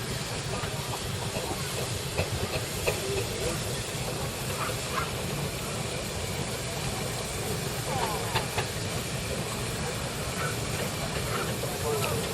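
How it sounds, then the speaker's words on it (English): A steam road roller moves at the Abbey Hill steam rally in 2010 on wet ground, its engine chuffing and rumbling steadily amid crowd noise and outdoor ambience. "It's a road roller."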